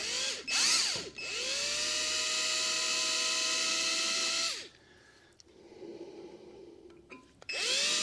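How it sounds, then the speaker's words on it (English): A power drill with a 1/8 inch bit whines at high speed, close and loud, boring through metal on a Stover 1-1/2 HP gas engine, then cuts off, leaving quiet scraping before spinning up again. "I'm going to start with a 1/8 inch drill bit"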